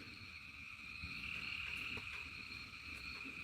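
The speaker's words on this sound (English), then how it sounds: "can you hear those frogs pretty good?" Distant frogs croak at night on a Georgia bayou in a steady, overlapping chorus, a continuous throbbing trill that carries on without a break.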